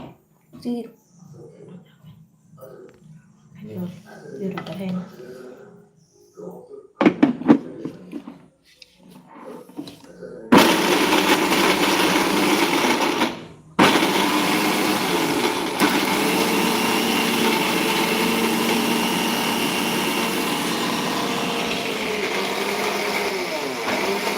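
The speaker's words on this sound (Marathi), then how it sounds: "मसाला आता मी एकत्रपणे मिक्सरला काढून घेते" A mixer grinder grinds masala spices for a drumstick vegetable curry in a home kitchen, starting abruptly with a loud, steady whirring roar. It stops briefly, restarts and runs continuously, preceded by kitchen clatter and talk.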